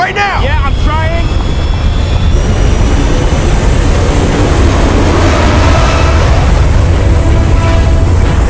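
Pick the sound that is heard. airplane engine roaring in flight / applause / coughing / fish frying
airplane engine roaring in flight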